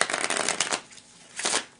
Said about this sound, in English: I'm gonna shuffle the cards one more time.